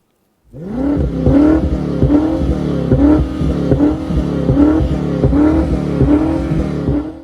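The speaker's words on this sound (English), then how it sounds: "Quad pipes, mad power, a lot of noise." A 625 hp BMW X6 M SUV engine revs repeatedly in rhythmic bursts through quad exhaust pipes, a deep throaty rumble rising and falling, close and loud throughout.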